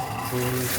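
Water flows from an emergency shower after its pull handle is drawn, a short steady rush of spray, close by with no voices.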